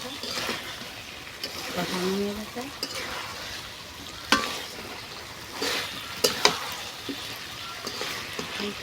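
Duck meat stir-fries in a pan, a soft sizzle with scraping stirs and a few sharp clinks of utensil on metal, close by, with a voice talking briefly over it.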